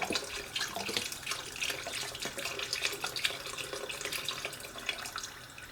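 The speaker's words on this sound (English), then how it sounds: "Let me put the rest of this chicken stock in there." Chicken stock poured into a pan over chicken pieces for a stew gives a steady, close splashing and trickling that runs unbroken for about six seconds, with no talking.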